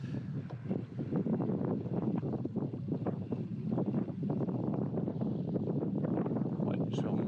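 Sea wind blows steadily and strongly across the microphone, a constant low rushing roar with gusty buffeting and no quiet breaks, heard at a fishing spot by the shore.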